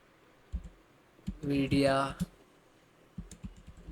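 Fingers type a search on a computer keyboard, with a few soft clicks, then a quick run of keystrokes, then more clicks, close and quiet under a voice talking.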